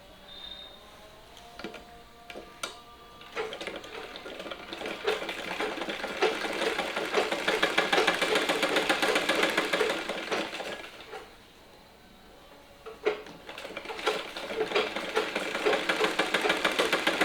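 Sewing machine stitching a narrow folded hem on an inskirt edge, a rapid mechanical whirring chatter that builds and runs steadily, pauses briefly, then starts again; no talk.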